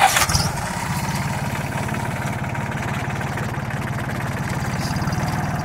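Farmtrac Atom tractor engine pulling a trolley loaded with 50 quintals of sugarcane, a steady, loud low diesel chug with a regular rapid pulse throughout, close by, after a brief louder burst at the start.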